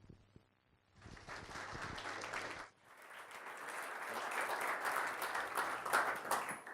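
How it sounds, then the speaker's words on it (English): Applause rises to welcome speaker Robert Weller at a content marketing talk, starting after a brief quiet, dipping for a moment, then swelling into fuller, sustained clapping from the audience. "Let's welcome, with a big applause,"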